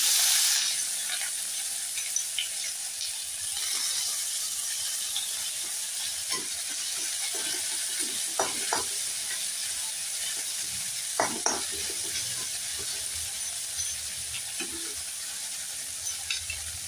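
Onions frying in hot oil for palak paneer, a steady hiss of sizzling oil with occasional spatula scrapes and clicks, close and without talk.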